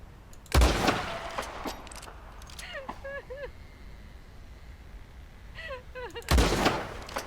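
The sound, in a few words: gunshots in the video game Red Dead Redemption 2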